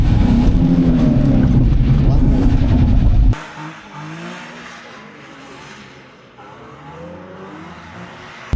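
A drift car's engine revs hard on the throttle for a few seconds, loud and close, then drops away to a lower, rougher rumble with a voice calling out over it.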